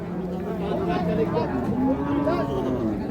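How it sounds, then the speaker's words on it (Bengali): Cattle at a cattle market near Raniganj mooing repeatedly, low drawn-out bellows over a steady busy crowd murmur, fairly close and loud throughout. "6 দাঁতের গাভী, দর্শক দেখার মতো।"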